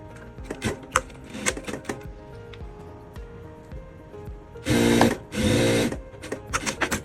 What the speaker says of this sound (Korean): 거기 이제 주머니를 옆선으로 붙여야 되니까 사장님이 맞추셔서 봉제를 하시는 거예요